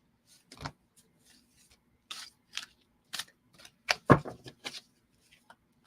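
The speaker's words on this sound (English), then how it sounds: "I'm going to do a cleansing shuffle for you." Tarot cards handled in a cleansing shuffle, heard close up as a scattered series of soft slaps and taps, some isolated and others in quick clusters, with no talking.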